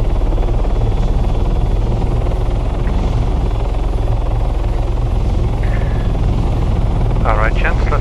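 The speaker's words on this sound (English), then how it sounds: "Spark is just lifting now, that is definitely the enemy chopper." Enemy helicopter lifting off in a military video game, a loud steady rotor and engine drone filling the whole clip under talk, with brief chirpy game sounds near the end.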